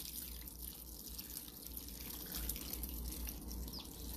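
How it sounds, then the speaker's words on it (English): Semi-warm water is poured over Jiffy peat pellet discs, giving a steady, quiet splashing and trickling that runs the whole way through with a slight swell partway in. No one speaks. "we're going to take 10 cups, no, 8 cups, sorry, of semi-warm water, and we're going to pour it over"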